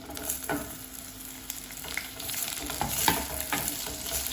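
Chopped celery and garlic sizzle and caramelize steadily in a hot pot while a utensil scrapes and stirs at intervals, close and moderately quiet, with no talking.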